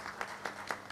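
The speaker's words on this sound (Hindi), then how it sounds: "CL अग्रवाल साहब के लिए भी तालियां हो तो अच्छा लगेगा मेरे को" A gathered village audience claps for a guest at a community event, with soft, steady, rather distant applause and a few slightly louder claps.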